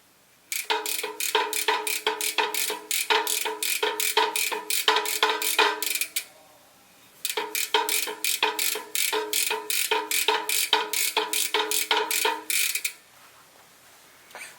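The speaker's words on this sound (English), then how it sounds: "kind of flossing the cassette, get everything nice and clean, move it around" A Velo Orange bicycle hub's cassette ratchet clicks rapidly while being cleaned and turned by hand, two long runs of crisp, evenly spaced ticking separated by a short pause, close and clear.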